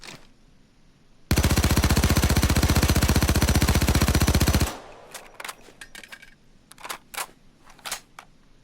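A Payday 2 FN P90 (Kobus 90) personal defense weapon fires one long full-auto burst of rapid, evenly spaced shots, loud and dense for about three seconds, followed by scattered clinks and small impacts as it stops.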